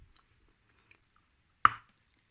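Edible white clay from Bashkiria, dense and heavy, gives one short, close crunch when chewed, set in near silence.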